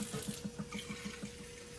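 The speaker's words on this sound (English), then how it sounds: "I'm going to put some cold water" Cold water streams from a tap into a pitcher of ice, a steady, close splashing flow with a faint hum and rhythmic gurgling underneath.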